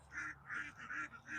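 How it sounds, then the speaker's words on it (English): Small khaki Campbell ducks, a light egg-laying breed, call on a farm in about four quick, nasal honking bursts at a fairly close distance with no talking. "We have really small ducks, khaki Campbells, like super tiny ducks."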